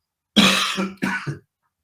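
A man coughs in two harsh, close bursts, one drawn-out hack and then a shorter follow-up, with a brief gap between them and no talk.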